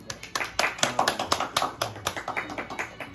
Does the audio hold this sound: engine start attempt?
no